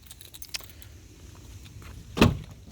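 Valet key of a Kia Soul jangles inside the car, giving faint light clinks early and then a sharp, brief metallic rattle near the end over quiet cabin background.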